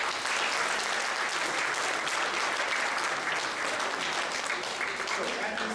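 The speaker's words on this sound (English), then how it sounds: "Please, everyone, a round of applause for them." Audience at a JHU/CTY awards event applauds the award students, their parents and siblings with a full, steady roar of clapping that stays loud and unbroken across the whole stretch.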